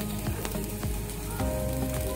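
Green chili, capsicum and spring onion sautéing in a pan, a loud continuous sizzle with a few brief scraping sweeps of a spatula, close up.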